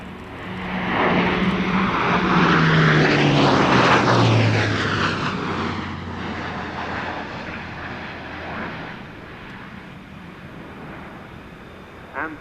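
At an air show, an aircraft makes a high-speed pass and pulls up, a loud roar building to a peak with a falling pitch sweep as it goes by, then fading into a softer receding drone.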